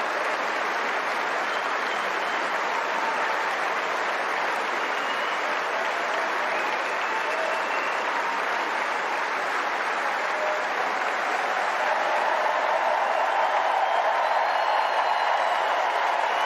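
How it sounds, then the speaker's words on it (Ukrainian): A Wimbledon tennis crowd gives a sustained ovation: dense, steady applause with some cheering that holds at an even level the whole time and swells slightly near the end. "Ви просто послухайте, які овації вони отримали."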